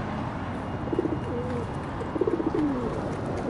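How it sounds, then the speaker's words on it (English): Pigeons coo close by in two soft, throaty rolling phrases with a pause between them, over a low outdoor background hum. "So this one's stealing nuts from a bag, look. Clever pigeon."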